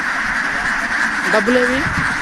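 Ducks from a grazing flock quack in a short nasal burst near the middle, over steady outdoor background noise, with a voice talking faintly underneath.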